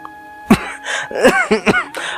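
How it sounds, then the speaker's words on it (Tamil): One sharp cough, then a few throaty, voiced coughing sounds in quick succession, close by and moderately loud. "நீ இருமுற நான் இருமுறேன்"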